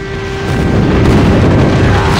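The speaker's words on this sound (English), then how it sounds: "Target down! Friendly airstrike incoming." A friendly airstrike in a shooter video game hits as one loud, sustained explosive roar that starts abruptly and keeps rumbling for a couple of seconds.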